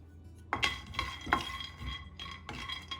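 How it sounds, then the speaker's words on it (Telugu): Peanuts roast in a pan, with sharp metallic clinks and scrapes of a spoon against the pan about every half second, close and clear over a faint low hum. "అదే ప్యాన్లో 2 టేబుల్ స్పూన్లు పల్లీలు వేసి వేయించుకుందాం."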